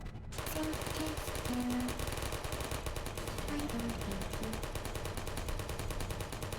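Automated turret opening fire in the video game Portal: sustained rapid machine-gun bursts that rattle on without a break for several seconds, loud and close.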